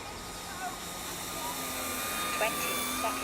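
A Dynam Hawker Hurricane Mk1 model airplane on its maiden flight drones steadily as it comes in to land, a continuous moderately loud engine whine with faint pitch shifts and no voices over it.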